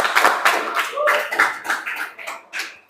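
Audience applause following a group presentation on LAN network installation in a classroom setting, a dense burst of many hands clapping that swells and fades over about three seconds.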